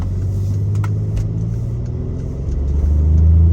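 A Mercedes-AMG GLE 43 SUV with 55,000 miles accelerates, its engine giving a low, steady rumble that swells louder toward the end, with no talk over it.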